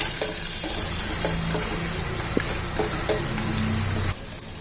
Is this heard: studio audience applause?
no